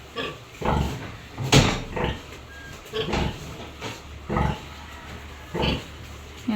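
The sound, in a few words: sow nursing piglets, pigs grunting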